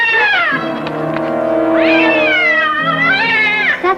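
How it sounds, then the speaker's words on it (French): A large cat meows loudly and close by in a long, drawn-out call rising and falling twice, heard alone without talk. "Ça, c'est un énorme chat."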